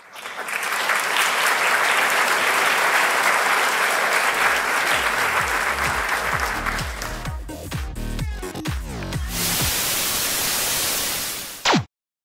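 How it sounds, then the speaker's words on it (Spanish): Talk show audience applause, a broad hiss of clapping that thins out partway through under music, then a loud noisy burst that cuts off abruptly. "Aplauso."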